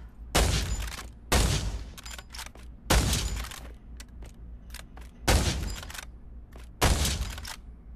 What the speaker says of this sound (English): Next up, we have the hunting rifle